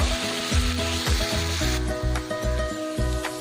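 Garlic paste fries with browned onions in a pan, giving a steady, close sizzle with rhythmic scraping strokes of stirring.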